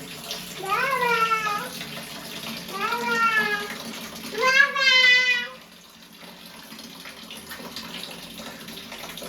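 Hot water runs steadily from a tap throughout, while three drawn-out wailing vocal calls rise over it in the first half before only the flow remains.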